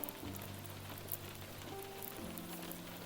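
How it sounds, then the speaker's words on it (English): Steady rain falls in a VRChat world, a soft continuous hiss of drops on surfaces with faint low tones underneath, calm and unbroken. "I would just listen to this, and I would watch those raindrops fall."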